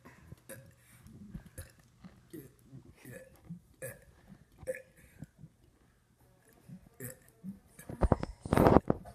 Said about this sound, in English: And then we'll just burp.